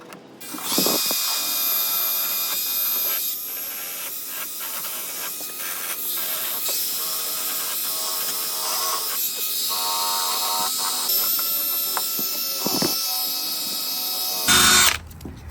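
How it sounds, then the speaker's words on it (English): A buffer wheel whirs against a 1965 Mustang tail light to clean off grime, a steady high-pitched grinding hiss lasting the whole stretch with small changes in pitch as pressure shifts. "the buffer wheel because I'm gonna go ahead and try to get just a lot of the grime off of this"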